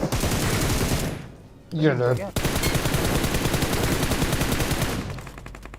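Sustained rapid bursts of UMP submachine gun fire rattle loudly in a battle royale video game, broken by a short pause, with a brief voice heard between bursts.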